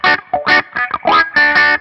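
An Epiphone Casino electric guitar played through a wah pedal: short, bright phrases of notes whose tone sweeps open and closed, loud and close, with brief gaps between bursts.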